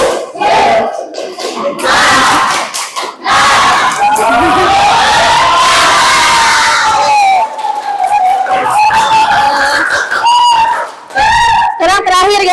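A group of teachers chants and claps together in a rhythmic spirit chant, loud and close, with shouted voices and bursts of clapping rising and falling across the stretch.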